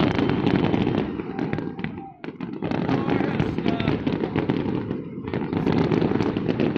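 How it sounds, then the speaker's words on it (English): Dense, continuous crackling and popping of New Year fireworks bursting loudly nonstop, with a brief lull before the barrage resumes; voices cheer faintly beneath. "Fourteen tons of fireworks."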